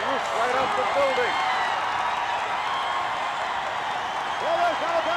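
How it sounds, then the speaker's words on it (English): A capacity wrestling arena crowd roars in a continuous, loud wall of cheering and applause, with a commentator's voice talking over it. "Listen to that crowd"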